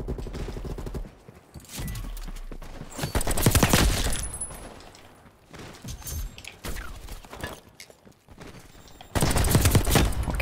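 Bursts of rapid AK rifle fire in Call of Duty: Black Ops Cold War crackle in loud volleys with short gaps between, punchy and close, some shots echoing in the background.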